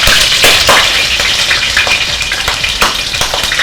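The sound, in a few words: boiled meat sizzling as it fries in oil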